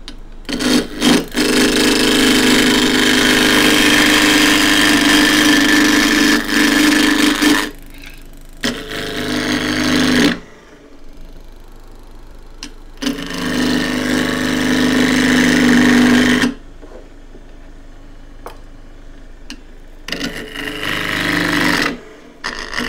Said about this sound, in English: I'm going to be roughing down with a 1/2-inch spindle gouge